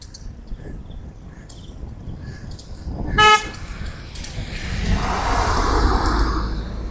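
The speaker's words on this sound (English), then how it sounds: "shut up with your horn, I can hear you" A car horn sounds on a road in GaoYao, China, a single short honk near the middle, fairly close and loud, over steady outdoor traffic noise that swells toward the end.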